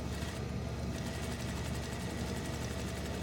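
A sewing machine runs a second row of stitching along the edge of a fabric ruffle, giving a steady, continuous motor whir with fast rhythmic needle chatter, close and unbroken throughout.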